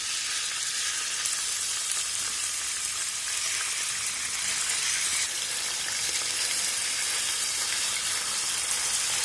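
Thin strips of meat frying in oil in a pan, a loud, steady, close sizzle that holds evenly throughout with no voices.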